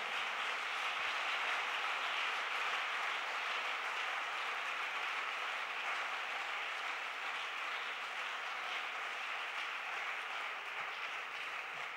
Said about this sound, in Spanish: Suéltele ese aplauso al Señor en esta hora.